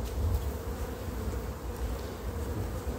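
Sahariensis honeybees hum steadily at the hive in a dense, continuous low drone, close and unbroken, with no voices.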